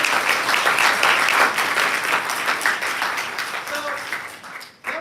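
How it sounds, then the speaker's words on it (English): Audience applause for panelists at an animation industry panel, a full burst of clapping from a seated crowd that gradually tapers off before cutting short. "let's give a round of applause for our few panelists today"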